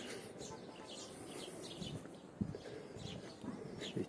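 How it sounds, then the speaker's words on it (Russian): Sparrow chirps in a city-centre park square near a lake in Yakutsk, faint and scattered among other birds over steady outdoor background noise with occasional thuds. "Видали, что творится? Воробей здесь."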